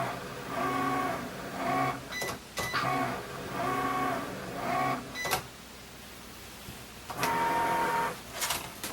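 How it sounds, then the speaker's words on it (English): A Cricut Explore One cutting machine cuts shrink film, its motor whirring in repeated bursts with short pauses and clicks between passes, close and steady with no talk. "it's ready to cut on the Cricut"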